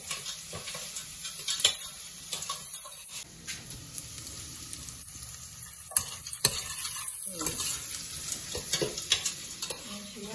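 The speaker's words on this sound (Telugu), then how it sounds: "ఇప్పుడు మంచిగా ఎల్లిపాయలు అనేవి వేగినాయి" Onions frying in a pan for upma, a soft steady sizzle with repeated scraping stirs and occasional knocks of a spoon against the pan, close but quiet, no talk.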